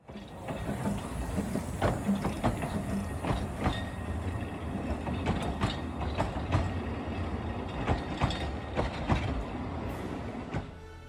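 A train on the narrow-gauge Talyllyn Railway passes through Dolgoch, heard as a steady rumble with repeated clicks and clanks of wheels over rail joints, fairly close throughout and with no voices.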